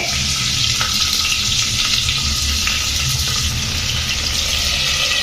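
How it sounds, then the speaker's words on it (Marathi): Two medium onions go into a hot pan of oil with cumin for a prawn biryani, giving a loud, continuous close sizzle and crackle with soft bubbling that holds steady throughout. "आता यामध्ये आपल्याला घालायचं आहे कांदा मी दोन मिडियम साईजचे कांदे घेतलेले ते आपण यामध्ये घालून घ्यायचे"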